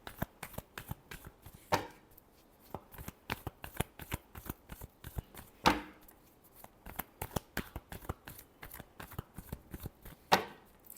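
Tarot cards are shuffled by hand in quick, crisp riffles and flicks, with a few louder snaps standing out among the soft, close rustling.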